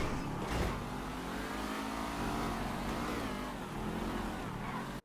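Cars race in GTA Online with a loud, close engine revving and accelerating continuously, the pitch rising and falling as the vehicles speed along, ending abruptly.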